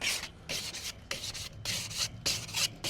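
Balled-up wad scraped back and forth across the grates of a Weber kettle grill, giving repeated harsh rasping strokes in a steady rhythm, close and fairly loud with brief pauses between passes.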